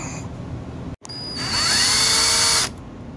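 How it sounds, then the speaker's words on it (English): An electric drill bores pilot holes into wooden window trim on a porch: a brief handling knock, then a loud, high, steady whine lasting just over a second before it stops. "drill in pilot holes from the top"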